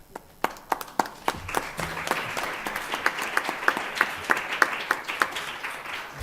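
Audience applause at the end of a conference talk on digital education, a dense run of claps with distinct sharp hand claps standing out, moderately loud and sustained for several seconds with no talking.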